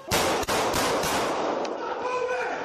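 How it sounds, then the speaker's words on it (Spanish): A burst of sharp, loud gunshots at close range inside a Nashville school, on an upper floor during a police confrontation with an attacker, quickly fading into a reverberant rumble. "La policía se desplazó hacia el segundo piso donde retumbaban los tiros"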